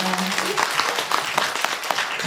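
Audience applause at a book talk with a zookeeper, photographer and writer, a steady wash of many hands clapping close and dense for the whole stretch, with a brief voice at the start.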